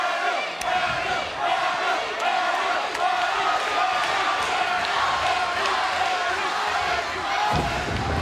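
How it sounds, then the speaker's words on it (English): A wrestling arena crowd at the Victory Road 2012 match between Kurt Angle and Jeff Hardy roars and chants continuously, with occasional thuds from the ring and commentators talking over the noise. "Crowd at Victory Road, getting into the skin, getting in the head of Kurt Angle"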